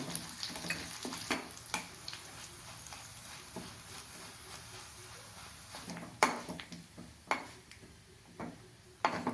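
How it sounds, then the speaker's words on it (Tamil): Red chillies frying in hot oil in a pan for a traditional gongura chutney, a soft steady sizzle with occasional sharp scrapes and clinks of a utensil against the pan. "மிளகாயை வறுத்து கொட்டிக்கலாம் முதல்ல எண்ணெய் காயட்டும்"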